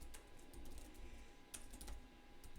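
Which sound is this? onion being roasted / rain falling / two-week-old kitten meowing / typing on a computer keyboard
typing on a computer keyboard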